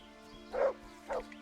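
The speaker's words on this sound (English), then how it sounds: "Dog. Lead the way." Dog in the video game Kingdom Come: Deliverance giving two short, medium-pitched barks about half a second apart over a quiet steady game ambience.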